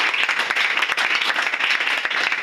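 Sustained applause from a congregation at a prophetic worship gathering, dense and even, with continuous clapping and no clear voices on top.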